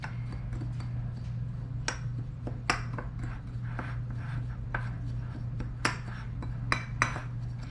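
Sesame seeds, sea salt, dried nettle, sage, thyme, rosemary and seaweed being mixed together in a bowl, giving scattered soft scrapes and light clinks of a utensil over a steady low hum, with no talking.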